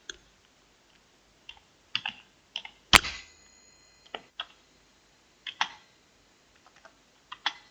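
Sparse keystrokes on a computer keyboard while entering text with the CorelDRAW text tool: scattered single clicks and short bursts, with one sharper, louder click, in a quiet room.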